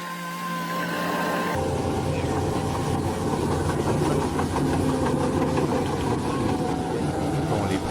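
A mountain bulldozer's diesel engine runs steadily at a muddy construction site where it is pushing a stuck dump truck, a loud continuous low rumble with a clanking mechanical texture throughout.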